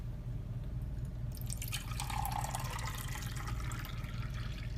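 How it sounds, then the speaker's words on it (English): Filtered water poured into the reservoir of a Rotimatic roti-making machine, a steady close splashing trickle that starts after a second of quiet and continues over a low background hum. "I'm going to pour some water in."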